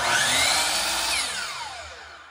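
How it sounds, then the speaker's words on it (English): DeWalt miter saw powered through a 10 kW hybrid inverter, its motor whining loudly up to speed then spinning down with a falling pitch, close and alone with no talk. "I'm going to turn my DeWalt miter saw on L2 also."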